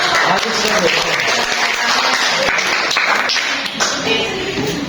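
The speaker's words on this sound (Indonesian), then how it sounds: "beri aplaus dulu" A class of students in a biology lesson breaks into continuous applause, many hands clapping together loudly and up close for several seconds, with voices mixed in under the clapping.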